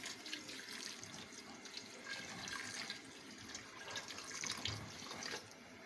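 Water is poured from a glass into a cooking pot with a little oil in it, a soft continuous splashing and trickling that runs steadily throughout at low volume.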